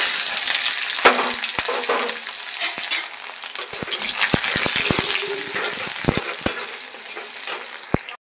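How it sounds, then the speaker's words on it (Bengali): Garlic and onion fry in hot oil in a wok with black cumin seeds, giving a loud, continuous sizzle broken by sharp clinks and scrapes of a stirring utensil. "রসুন আর পেঁয়াজটা ভেজে নেব।"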